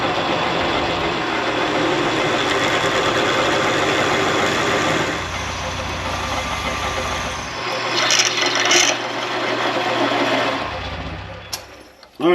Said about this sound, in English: we got a regular drill bit down through there